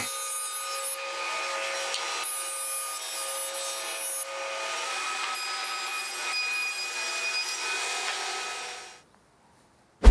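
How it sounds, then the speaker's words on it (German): A woodworking saw or planer cutting walnut: a steady, droning machine whine with a harsh, rasping edge runs continuously for about nine seconds, then cuts off abruptly, leaving near silence. "dann geht's hier auf der Säge weiter"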